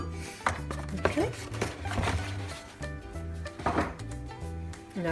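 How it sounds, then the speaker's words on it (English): Two medium eggs are whisked in a bowl while baking a celebration cake: quick, irregular clinking and tapping against the bowl, fairly quiet and close, with some faint background sound. "Okay, so we're going to whisk up 2 medium"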